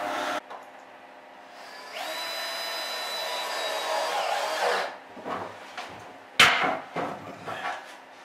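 Power screwdriver driving screws to fix stainless steel clips in a boat cupboard, a single whirring run of about three seconds followed by knocks, clatters and a sharp tap as parts are handled.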